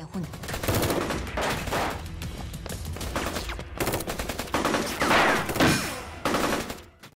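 Gunfire in an action film about a deadly sniper, dense bursts of rapid shots and loud cracks stacked in a busy, loud battle mix.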